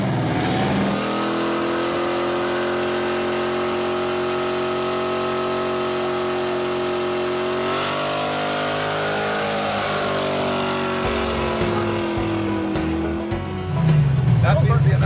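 Car engine in a Roadkill Garage project car revving loudly and close, holding a long rising drone before dropping back and surging again near the end.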